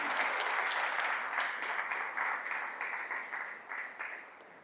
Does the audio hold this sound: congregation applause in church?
yes